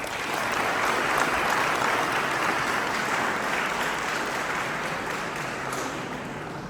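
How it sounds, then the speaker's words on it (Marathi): Loud, sustained applause from an audience at a local award ceremony in Junnar, a dense, even roar of clapping that holds steady throughout with no talk over it. "आपण सन्मान करायचं जोरदार टाळ्या आहे"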